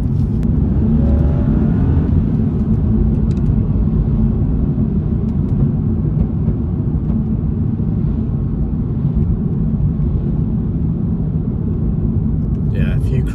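A stage-one tuned BMW 435i accelerating hard, its engine a loud, steady, deep drone that holds unbroken from start to finish.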